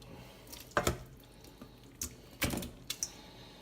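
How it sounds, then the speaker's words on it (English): A pot of water poured into a colander in a kitchen sink, with short splashing gushes and metallic clatter in separate bursts against a quiet background. "Get your colander into the sink and you want to pour in all that just to drain off the water."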